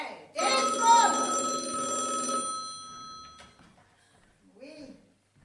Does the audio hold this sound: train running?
no